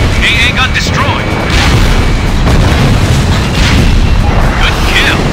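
An anti-aircraft gun blows up during an Ace Combat Infinity co-op air battle, a heavy boom buried in dense, loud continuous combat noise with radio voices and cockpit chatter over it.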